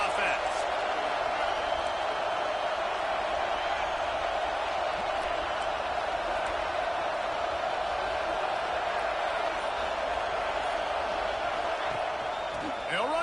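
A college football stadium crowd roars on a fourth-down play, a steady, dense wall of distant cheering and noise that holds without letup, with a commentator talking over it.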